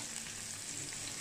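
Chilies sautéing briefly in hot oil for a garlic sambal, a steady, even sizzle that stays close and constant throughout the short stretch, with no voices.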